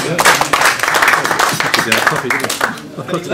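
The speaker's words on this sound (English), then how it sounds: "Can we give a round of applause, please?" Audience clapping after a talk about Twitter at a local meeting, a short, close round of hands with voices mixed in throughout.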